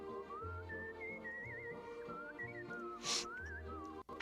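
Someone whistles a wandering, warbling melody over a steady rhythmic backing, with a brief burst of noise partway through.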